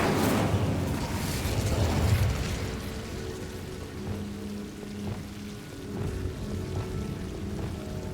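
A fire spell, Incendio, cast in Hogwarts Legacy bursts out loudly as a whooshing, crackling blast in the first two seconds, then settles into a lower, steady rumbling hiss with faint tonal game music underneath.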